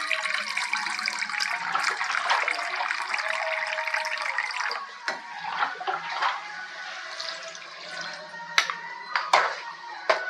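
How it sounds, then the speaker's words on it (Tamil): Water pours and splashes steadily into a cooking pot of goat trotter curry for several seconds, bright and hissy, then breaks into a few scattered splashes and drips near the end. "தேவையான அளவுக்கு தண்ணி சேர்த்து வேக விடலாம்"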